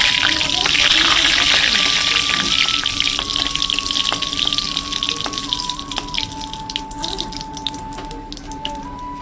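Dried red chili pieces and whole cumin seeds crackle and sizzle in hot oil while a spatula stirs the pan, a continuous loud frying hiss with occasional scrapes, and a faint tonal background hum runs underneath.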